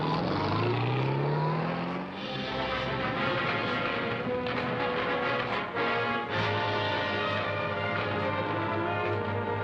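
A propeller aircraft drones loudly at an airport, a steady throbbing engine roar with a rising whine at the start, continuous and close with no talk.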